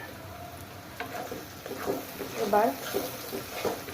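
A spice mixture is stirred into fried onions in a pan for chicken bhuna, giving soft sizzling and scraping under a voice speaking, with louder stirring noises building midway.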